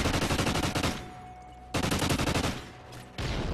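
A sentry gun in Call of Duty Ghosts fires close and loud in rapid bursts, with short pauses between the sustained volleys.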